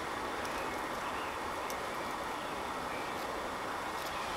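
A Bissell Powerforce vacuum's brush roll spins steadily, giving a continuous, loud whirring and rushing drone that holds evenly throughout with no talking.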